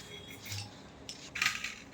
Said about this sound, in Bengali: মা কি করছো? আলু ছাড়াচ্ছি, দেখতে পাচ্ছিস তো